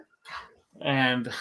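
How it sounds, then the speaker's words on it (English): A pet dog barks at home, one short yip followed by a longer, drawn-out bark with a whining tone, loud and close. "that was my dog. He's just barking at me."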